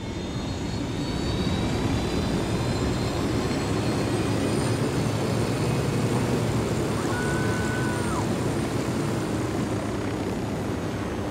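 Helicopter flying in the video game Ghost Recon Wildlands produces a steady, loud engine and rotor drone with a constant rushing roar that fills the whole stretch without letting up.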